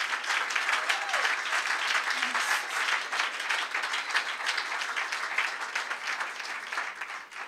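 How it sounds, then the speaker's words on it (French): A church congregation applauds in a dense, steady wash of clapping that fills the room for several seconds and thins slightly toward the end. "levez-vous, acclamez le Seigneur pour lui dire merci"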